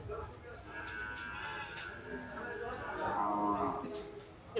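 Cattle at the Gabtoli cattle market lowing in drawn-out moos, one rising louder near the end, over crowd noise and background chatter.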